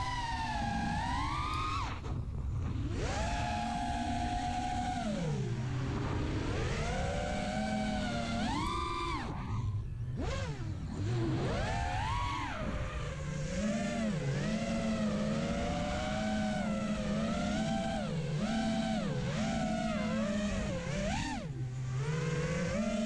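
Bolt RC Black Ops Karearea electric motors with damaged propellers scream at full throttle on a flying model. The whine is loud and continuous, rising and falling in pitch as the throttle and distance change.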